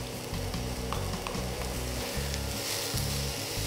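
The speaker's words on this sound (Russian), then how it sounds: "Минуты 2-3 жарим наш лук до прозрачности." Onions and finely chopped leek sizzle and crackle steadily in a hot pan, frying until translucent, with occasional stirring scrapes over the continuous frying hiss.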